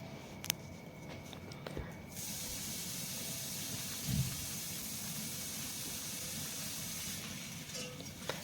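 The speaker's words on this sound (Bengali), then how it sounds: "এখন ফুলকপিটাকে ভালো করে ভেজে নেব।" Cauliflower fries in mustard oil with black cumin and turmeric in a pan over medium gas flame, a steady, fairly quiet hiss and sizzle running throughout with a few small clicks and a soft thump.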